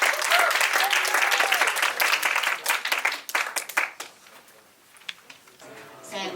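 An audience at a speech contest applauds warmly and densely for a contestant for about four seconds, then the clapping thins to scattered claps and fades, leaving a voice beginning to speak.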